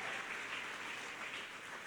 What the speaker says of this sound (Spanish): Si usted vino a escuchar a Dios en esta hora, dele un aplauso.